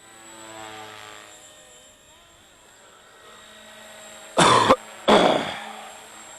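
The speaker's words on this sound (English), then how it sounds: "Excuse me for the cough" Two loud, harsh coughs from a man with COVID close to the microphone, separated by a brief pause, over the steady mechanical whine of a Blade 230S model helicopter.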